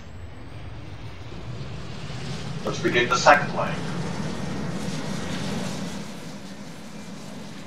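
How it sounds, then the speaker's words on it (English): Aircraft engines spin up in the Roblox flight game Aeronautica on a supersonic transport, a steady broadband roar with a brief rising whine in the middle, heard under a man's speech. "turn on the engines"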